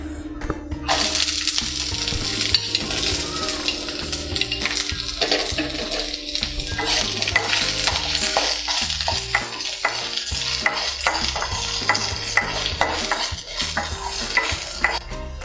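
Two large onions, a piece of ginger and three cloves of garlic fry with roasted chana dal for an avaram flower chutney, crackling and sizzling loudly while a utensil clinks and scrapes the pan repeatedly, close and steady.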